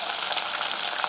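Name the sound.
sautéing green chillies, tomato and onion with rock salt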